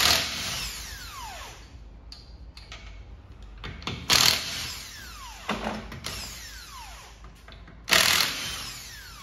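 Impact gun with a 21mm socket zipping wheel nuts off a 2016 Hyundai Sonata, several short loud bursts at close range separated by quieter pauses with whirring spin-down.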